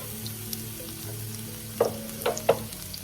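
Steady sizzling of onions frying in hot grease, with a few sharper clinks and pops near the end, close and moderately loud.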